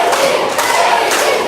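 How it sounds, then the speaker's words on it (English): Wrestling-match crowd chanting in unison for JC Dykes, a dense, loud roar of voices filling the whole space, steady with slight rhythmic swells and no single voice standing out. "The crowd chanting JC, JC"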